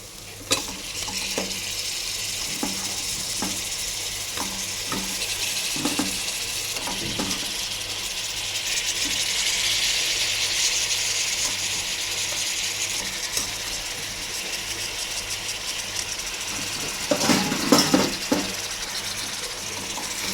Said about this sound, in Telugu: ఇప్పుడు ఇందులో ఈ చికెన్ అనేది వేసేసుకోవాలి